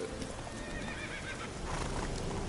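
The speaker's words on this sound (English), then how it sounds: "Where's the horse? Roach! Come here, Roach" Horse in The Witcher 3 neighs with a short whinny while hooves clip-clop, fairly quiet game sound without speech.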